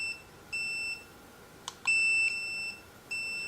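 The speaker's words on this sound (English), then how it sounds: "That is the tone on the collar as well." A wireless dog fence remote training collar gives out clear, high electronic tone beeps, several in sequence of short and longer lengths with brief gaps, loud and alone with no talking.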